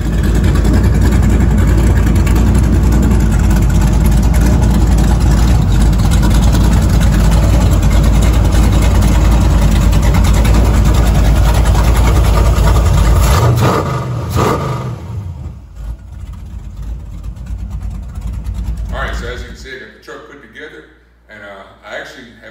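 A truck engine fitted with an MSD Pro-Billet distributor runs loud and close with a heavy steady drone and slight revving, then cuts out partway through, leaving quieter rustling and handling noises.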